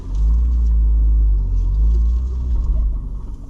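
A Lamborghini launches on a 0 to 60 run with traction control off, its engine a loud, deep rumble that holds steady, then wavers and pulses as the car pulls away.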